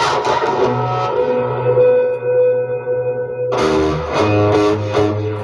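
A Terra Echo effects pedal processing a guitar, sustained notes ringing with smeared echo tails and modulated repeats, a sharp new chord entering midway and blooming into layered trailing echoes, loud and close.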